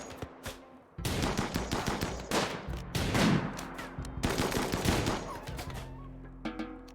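Gunfire in a video game, dense bursts of rapid machine-gun fire and single shots in close, loud volleys, pausing briefly then resuming, with no talking.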